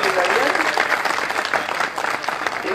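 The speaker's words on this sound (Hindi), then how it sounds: "आप लोग ताली बजाइए, कम से कम 2 बार ताली बजाइए।" Crowd at a political rally in Uttar Pradesh clapping loudly and continuously, a dense close roar of hands with someone talking over the applause.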